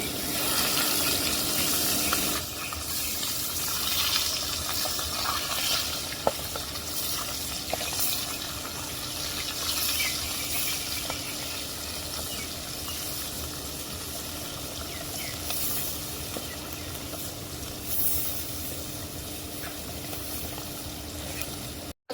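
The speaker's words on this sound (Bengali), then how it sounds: "ঝোল মাছগুলা দিয়ে দিব। তেল গরম হয়ে গেছে।" Bata fish frying in hot oil in a home kitchen, a steady, continuous sizzle and crackle that stays close and moderately loud throughout, with occasional small pops and no talking.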